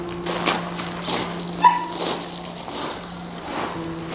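A dog in a training session gives soft whimpers and a few short yips at close range, faint and intermittent over a quiet room with a steady low hum.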